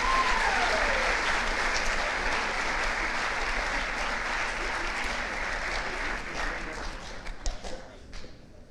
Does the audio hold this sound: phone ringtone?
no